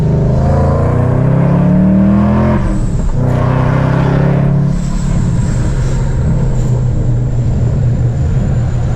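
A loud car engine with an exhaust dump roars and revs steadily, its deep exhaust rumble dropping briefly before surging again, close by and continuous.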